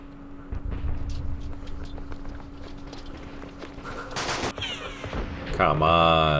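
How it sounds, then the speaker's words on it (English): Gunfire in the World War II wargame Campaign Series East Front, Thunder on the Dnepr scenario on the Eastern Front, sounds as a rattling volley of shots and bursts with a loud blast near the end. "Do some more shooting."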